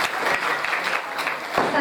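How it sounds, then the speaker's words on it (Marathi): Audience clapping for the performers at a Marathi Bhagwat katha during an Akhand Harinam Saptah, a steady spread of hand claps that continues for the whole short stretch, with a slight swell near the end. "प्रशांत भया गोडके तथा प्रियादिदी गोडके आज ज्याने आहेत एक जोरदार त्यांच्यासाठी टाळ्या"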